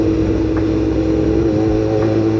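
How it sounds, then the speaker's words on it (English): A Suzuki GSX-S 750 motorbike engine runs with a loud, close, steady droning hum and an even buzzing tone, with no voices. "Gixxer engine."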